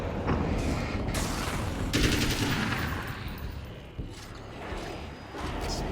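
Sustained assault rifle fire sounds in the video game Alan Wake's American Nightmare, with dense automatic bursts and a heavy blast near the middle over a busy game soundscape, and no speech.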